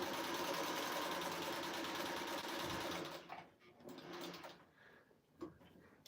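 A sewing machine stitches in a fast, steady whir for about three seconds, close and clear, then slows and stops with a few faint mechanical clicks.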